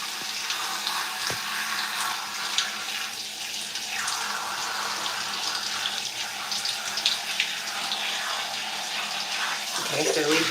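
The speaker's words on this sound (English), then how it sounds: "Now I'm just going to go in with the regular water pressure." Steady running water from a shower or tap rinsing conditioner out of curly hair, a continuous hiss throughout with a brief bump of handling near the end.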